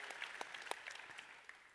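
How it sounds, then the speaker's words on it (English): Faint, thin applause from a small group, scattered claps fading out over a couple of seconds. "Let's have an applause for them."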